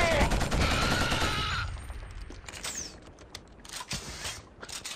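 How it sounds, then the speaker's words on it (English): A heavy machine gun in the shooter Killzone pours out suppressive fire, a dense loud rattle that fades after about two seconds into sparse distant pops and clanks. "We'll lay down suppressive fire while you advance on it!"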